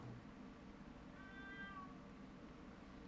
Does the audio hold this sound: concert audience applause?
no